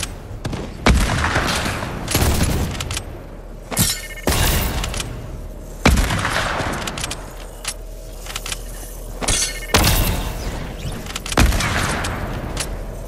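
Fortnite gunfire cracks out in sharp, loud single shots spaced a second or two apart, some in quick pairs, each with a short ringing tail over a low steady background.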